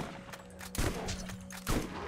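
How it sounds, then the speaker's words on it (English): Two heavy shotgun blasts from the Borderlands video game, each a loud broadband boom with a decaying tail, spaced about a second apart over a steady electronic hum. "This is probably the greatest shotgun ever."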